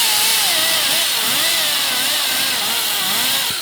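A whiz wheel fitted with a Scotch-Brite pad whines loudly against old Craftsman riding mower parts, a high-speed rotary tool sound whose pitch wavers up and down as the pad bears down on the metal, with no speech.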